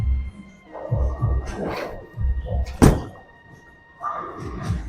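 A bowling ball thrown straighter with extra speed strikes the pins, a loud, clear crash in the middle, set among muffled thuds and low bowling-alley rumble.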